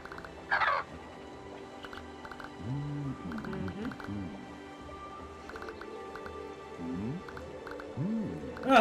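Birds in the video game Creatures of Ava: warbling, gobbling calls that rise and fall in a few bursts over a soft game ambience, with occasional sharp clicks.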